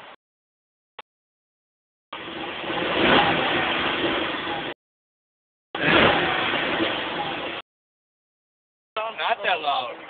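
A Dodge Challenger SRT8 engine revs hard in two sustained bursts for a burnout, separated by silence, with a brief blip at the start and another short rev at the end.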